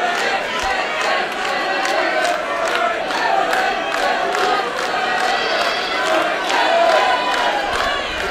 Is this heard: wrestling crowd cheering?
yes